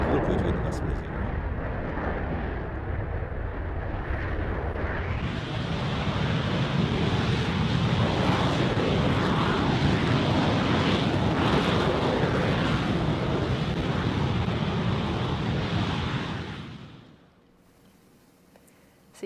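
Rocket Lab Electron engines firing at 216,000 newtons of thrust on a test stand, a powerful continuous roar that builds slightly, holds, then cuts off abruptly into near silence.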